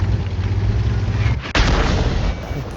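A tank gun fires in World of Tanks. There is one loud, sharp blast over a steady rumble of engine and ambient battlefield noise, and its echo fades afterward.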